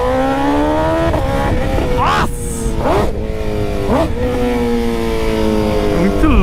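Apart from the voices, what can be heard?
BMW S1000RR motorcycle engine revving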